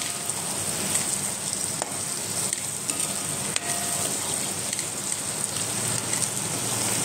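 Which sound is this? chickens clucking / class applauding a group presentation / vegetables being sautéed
vegetables being sautéed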